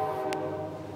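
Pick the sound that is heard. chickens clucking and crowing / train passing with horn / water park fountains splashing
train passing with horn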